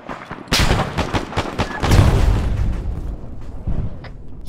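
Heavy booming cannon blasts in the video game Arma 3 go off in quick succession, loud and close, with rumbling reverberation between the shots.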